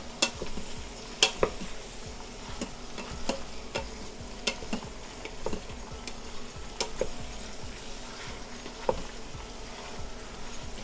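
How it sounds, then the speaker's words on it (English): Onions sauté for French onion soup with a low steady sizzle, while a wooden spoon taps and scrapes the pan in irregular strokes, close and quiet. "Onions are beginning to saute, so I'm just going to give them a little stir"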